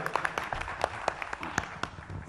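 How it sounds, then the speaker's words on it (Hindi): Audience applause at an introduction and talent-honouring ceremony, a thin, sparse scattering of claps with distinct individual hand strikes standing out over a faint background. "जोरदार ताली हो जाए।"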